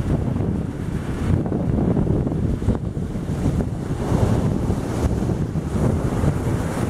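Rough sea waves crash and surge under strong wind buffeting the microphone, a loud, continuous roar with rolling swells from a shoreline fishing spot, no voices.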